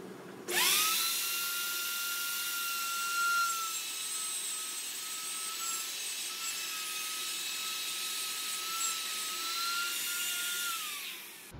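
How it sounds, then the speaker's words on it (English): A router fitted with a spiral upcut bit spins up with a sharp rising whine, then holds a steady high-pitched scream as it cuts out a bow tie inlay pocket in wood, before winding down at the end. "To cut this out, I like to use a spiral upcut bit to remove the bulk of the material"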